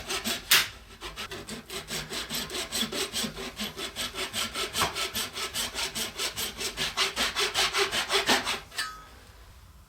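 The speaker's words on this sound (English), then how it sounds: "our resin rods are dried, and I'm just going to cut off 4 1/4-inch long pieces" A hand saw cuts through a cured clear resin rod in dozens of fast, evenly spaced rasping strokes, close and loud, ending with a final sharp stroke and no talking.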